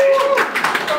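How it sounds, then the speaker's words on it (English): Applause at a craft beer talk by the Holgate Brewery founder in a Sydney hotel venue, a short burst of clapping from a small crowd, with a voice speaking over it. "So a hand of applause for you guys."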